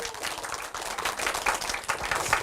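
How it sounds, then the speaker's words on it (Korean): A lecture audience of mothers applauds, dense broadband clapping that holds steady for a couple of seconds with no voices over it. "우리 어머님들 그 점에 동의를 하시면 박수 한번 쳐보십시오."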